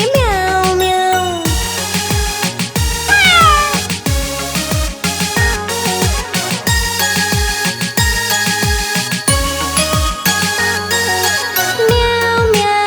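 A bouncy children's song where a singing voice imitates a cat, repeating meows in rhythm over bright synth notes.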